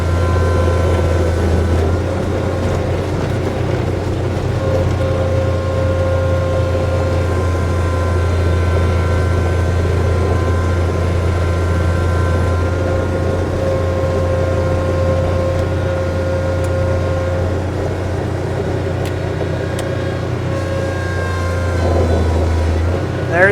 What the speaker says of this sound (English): You actually open the throttle up to make the hydrostatic unit work the way I'm doing it right now.